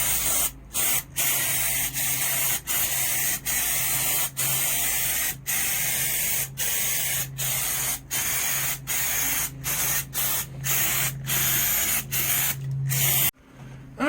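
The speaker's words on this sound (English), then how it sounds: "now I'm going to go and actually put some undercoating on these to prevent them from rusting up any more than they already are." Undercoating sprays from a can onto the rusty floor and seat brackets of a third-generation Camaro, in a long run of close, loud hissing bursts broken by brief pauses and ending abruptly.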